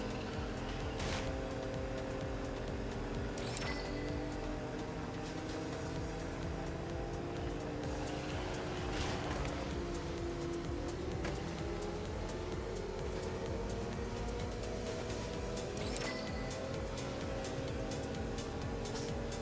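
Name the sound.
Porsche car driving in a video game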